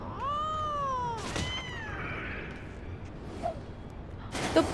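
A cat meows in Final Fantasy XIV, one long clear drawn-out call at the start followed by a shorter one, with soft game ambience and brief bursts of other sound near the end.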